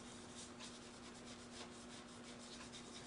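A paintbrush loaded with Naphthol Red Light paint is dry-rubbed across a painted surface, making a steady, close, scratchy swishing with repeated back-and-forth strokes throughout, soft and continuous, with no voices.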